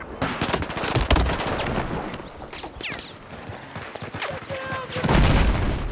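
Rapid Battlefield 4 gunfire rattles in dense bursts and volleys over a busy battle, strongest near the start and again toward the end, with some talking mixed in.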